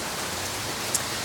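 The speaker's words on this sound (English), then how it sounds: "just starting to get some of the heavy downpours" Heavy thunderstorm downpour in central Oklahoma, a dense, loud, continuous hiss of rain with no voices.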